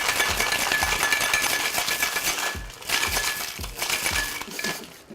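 Ice rattling hard inside a cocktail shaker for a Penicillin cocktail, a dense continuous clatter with rhythmic thumps as the shaker is driven back and forth, loud and close with no talking.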